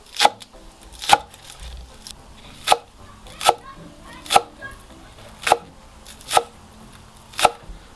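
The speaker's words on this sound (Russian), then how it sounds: "Нарезаем мелко." Green onion stalks finely chopped with a knife on a cutting board for a cabbage salad, about ten crisp, evenly spaced chops close by, each a sharp tap with quiet in between.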